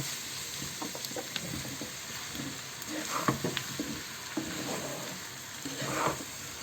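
Ground cumin, turmeric, coriander and chilli powders are stirred with ginger paste in a pan for a prawn curry, making a continuous soft sizzle with scattered spoon scrapes and light clatter.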